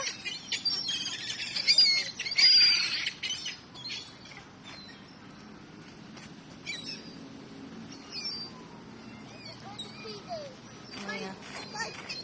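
Pet birds squawking and chirping while being fed indoors, scattered shrill calls with a louder burst early on, mixed with a voice and other speech.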